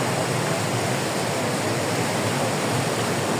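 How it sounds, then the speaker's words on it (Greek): Continuous dense roar of a waterfall and rushing water at Pozar baths, loud and close, a steady unbroken wash with no pauses. "Τρέχει το νερό εδώ πέρα."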